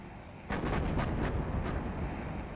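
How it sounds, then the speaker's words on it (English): Fuel air bomb striking an airfield in a multiplayer strategy video game, a sudden loud blast followed by a rumbling roar with several crackling secondary bursts rippling through it, sustained and dense. "Fuel air bomb almost kills the airfield"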